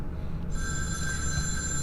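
A telephone bell rings in the video game Concluse 2, one short burst of sustained tonal ringing starting partway in, clear and close over a low background hum.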